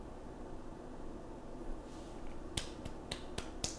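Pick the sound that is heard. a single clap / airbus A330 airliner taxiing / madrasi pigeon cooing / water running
a single clap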